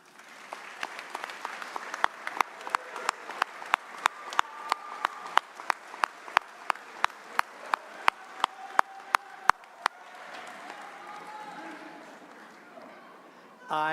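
Graduates applauding their parents at a Catholic high school graduation ceremony, with a hall-wide crowd clapping under a series of sharp, evenly spaced beats, fading out near the end.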